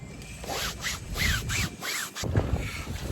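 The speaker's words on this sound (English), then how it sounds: "So now to cut the vinyl." Vinyl for a boat dodger cover being cut, giving a series of short rasping, scraping strokes in a quick rhythm, close and fairly quiet, ending with a couple of soft knocks.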